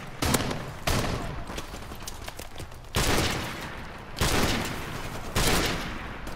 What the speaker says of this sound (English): Sounds a lot like the suppress pistol from Fortnite